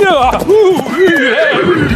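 Horse neighing close and loud, a wavering, undulating whinny that rises and falls several times over two seconds.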